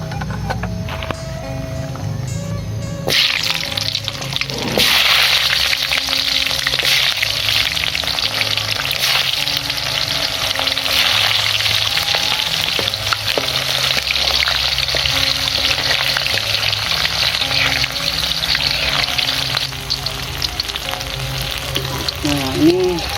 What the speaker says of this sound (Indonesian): Nah baru kita goreng bawangnya sobat.